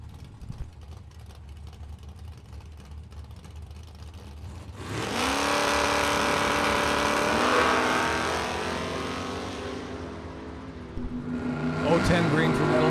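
Two drag-racing Camaros, a 1969 and a 1983, launch together at the strip with a sudden loud roar of rising engine revs that holds strong and near, then fades slightly before another surge, over an announcer's voice.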